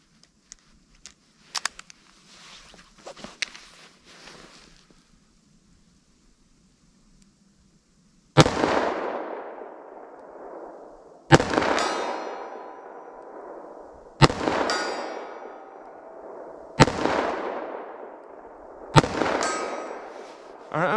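Five loud short-barrel handgun shots, 9mm and .38 Special, crack at a target outdoors, each followed by a ringing decay, after a stretch of quieter handling clicks and faint murmuring.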